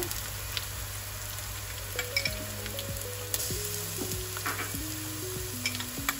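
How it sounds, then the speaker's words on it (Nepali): Garlic and ginger paste frying in hot oil for jackfruit biryani, a steady close sizzle with light stirring, while a descending melodic tone plays faintly in the background. "अब यसमा म लसुन र अदुवाको पेस्ट राख्दैछु।"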